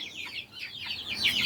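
Backyard chickens cluck nearby, a rapid run of short, bright clucks rising in intensity toward the end, with no talking over them.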